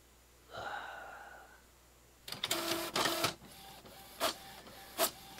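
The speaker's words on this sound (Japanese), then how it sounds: "白いプリンターは主をなくした部屋で新たなモノクロ写真の印刷を開始していた。" A white printer in a horror video game starts printing, with a burst of whirring mechanical feed noise followed by two short separate clacks, after a brief quiet hum and a soft breathy sound.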